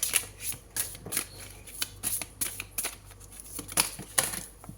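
Tarot cards are shuffled and drawn up close, with repeated crisp riffling snaps and flicks in an uneven rhythm and almost no talk.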